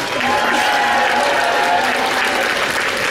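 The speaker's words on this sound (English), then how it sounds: "A round of applause." An audience at a club event applauding, a dense, even wash of clapping from a crowd that holds steady and loud throughout.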